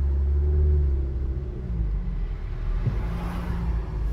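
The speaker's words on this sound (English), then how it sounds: "Thunder began to rumble." Low, rolling thunder rumbles steadily as a storm moves in under dark clouds, a deep continuous roar with a slight swell near the start and a soft crack midway.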